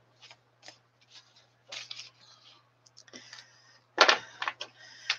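A deck of tarot cards being shuffled by hand, with soft, papery riffling bursts at irregular intervals and a louder, denser flurry near the end. The sound is close and quiet, with no voices.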